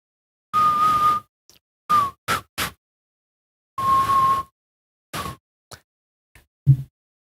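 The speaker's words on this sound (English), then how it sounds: "That was a whistle." A person whistles several short tones with pauses between them, one steady sustained note and a few brief chirps, clear and close in a quiet room with no talking.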